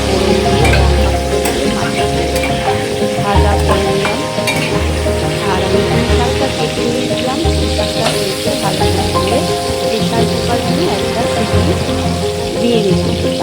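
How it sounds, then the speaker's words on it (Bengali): Katla fish fat frying in a pan, a loud, continuous close sizzle and crackle with occasional stirring scrapes throughout, no talking. "আমি মাছের তেলটা দেখো প্রথমে ভাজা করে নিচ্ছি খুব ভালো মাছের তেলটা কাতলা মাছের তেল"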